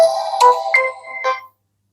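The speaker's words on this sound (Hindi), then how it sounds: "साउंड में इस फ़ोन की जो रिंगटोन है वो भी मैं आपको चेक करवा देता हूँ" An Infinix Note 40 Pro phone in vintage green plays its ringtone through its loudspeaker, a bright electronic melody of four quick notes, then silence.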